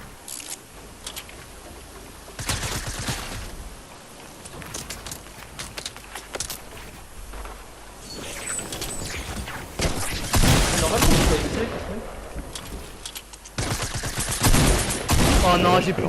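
Gunfire crackles through a video game fight, with bursts of rapid shots and single cracks scattered over several seconds among footsteps and game noise, growing denser and louder toward the end.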